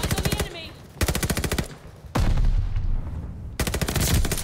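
Rapid automatic gunfire from a hard-recoiling gun in a video game, fired in four quick bursts of rattling shots separated by brief pauses, loud and close.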